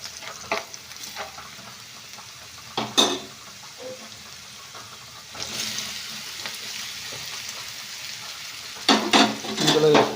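Nethi beerakaya (ridge gourd) pieces sizzle in a pan. Low frying hiss is punctuated by louder bursts of sizzling and scraping each time they are stirred, growing busier toward the end.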